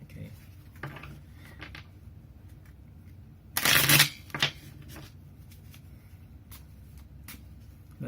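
Tarot cards are shuffled in a short, loud riffle burst with a quick second flutter, then fade to faint handling sounds amid quiet room tone.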